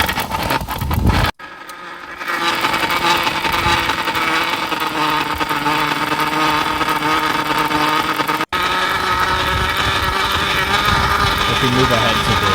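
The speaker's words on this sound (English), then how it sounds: "really awesome recording of her riding her bike with an aluminum can stuck to the back, so it was hitting the spokes as she was riding" An aluminum can stuck to the back of a moving bicycle clatters against the spinning spokes, making a steady buzzing, motor-like drone with brief cut-outs near the start and middle.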